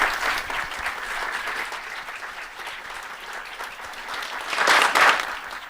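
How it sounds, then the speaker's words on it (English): Conference audience claps for the volunteers, a moderate, even round of applause that swells louder near the end before easing off, heard alone without speech. "So a big round of applause to them."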